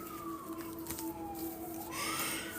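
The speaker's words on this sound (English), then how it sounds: "Do you guys hear the sirens back there?" Distant emergency vehicle siren wailing steadily with a slowly falling then rising pitch, heard alone without talk over a background hum.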